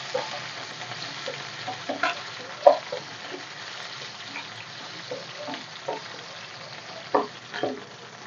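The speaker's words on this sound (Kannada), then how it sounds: "ಒಂದು ಸ್ವಲ್ಪ ಈರುಳ್ಳಿ ಚೆನ್ನಾಗಿ ಫ್ರೈ ಆಗಲಿ." Onions with curry leaves frying in a pan for capsicum rice bath, a soft continuous sizzle with occasional light stirring taps, fairly quiet and close.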